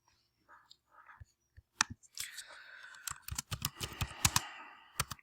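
Fingers typing on a computer keyboard, starting with a few scattered taps, then breaking into a quick, irregular run of close, crisp clicks with short pauses between bursts.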